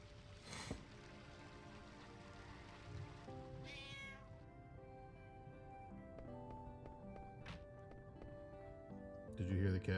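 Cat meow sound effect from the video game Final Fantasy 9, brief tonal meows heard over game music with chiming notes, faint talk and rustling underneath.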